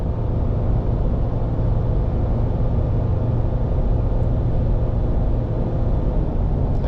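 A 2020 Ram 1500 EcoDiesel pickup tows a Kubota at around 30% throttle. The cab is filled with a loud, steady low engine and road drone. No distinct shift change stands out, and nobody talks.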